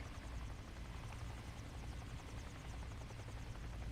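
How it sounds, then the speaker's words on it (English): Helicopters fly in a flight simulator game, a steady whirring rotor drone with rhythmic blade chop that stays constant and fairly close throughout. "watch the helicopters flying around the wires, putting themselves at great risk"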